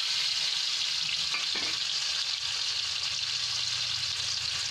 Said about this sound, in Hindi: और पनीर को तल लेंगे।